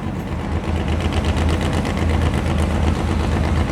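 A nine-second drag race street car idles steadily at the strip before a pass, a deep continuous low rumble with a slightly lopey, uneven pulse throughout, fairly close and with no talking.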